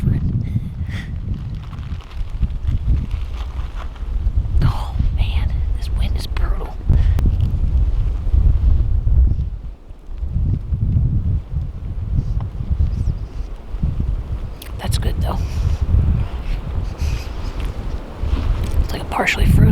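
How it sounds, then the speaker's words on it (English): Strong wind buffets the microphone outdoors on a cold day during a bowhunting trip, a loud continuous roar and rumble with a brief lull, while a person speaks softly beneath it. "Seriously, that wind is what kills me."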